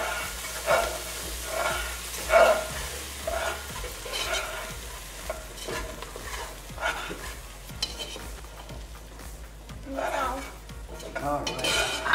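Flour stirred into melted butter in a pot to make a roux for tomato bisque: steady scraping and stirring with soft sizzling and occasional utensil taps against the pot, close and moderately quiet.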